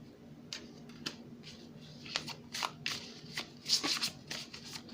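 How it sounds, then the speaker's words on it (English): A deck of cards is shuffled by hand for a reading, producing soft, irregular riffling clicks and brushes, close and quiet, with no voice. "I'm shuffling this"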